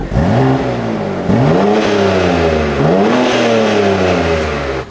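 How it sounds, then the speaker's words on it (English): A BMW M340i engine revs up and down three times in a row, loud and close, each rise followed by a throaty settle. "We'll give it a little rev."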